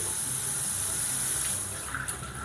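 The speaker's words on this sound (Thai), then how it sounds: "เราก็เปิดวาล์วน้ำตรงนี้ ถ้าเครื่องกรองน้ำอยู่ในลักษณะนี้นะครับ ก็คือเป็นการใช้งานน้ำปกตินะ" Unfiltered tap water gushing from a faucet fitted with a Toray Vino SX606V faucet-mounted filter, a loud, close, steady hiss of running water.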